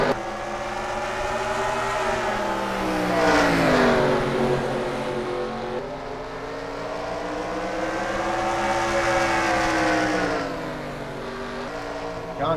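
Race cars circle Bristol in a heat race, engines swelling and fading in two long passes as the pack roars by, loud and continuous with no talk.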